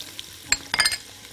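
Garlic dropped into a pan of chopped onion frying in olive oil for a chicken freekeh soup, giving a brief sizzle with a sharp clink of a utensil and a short burst of stirring.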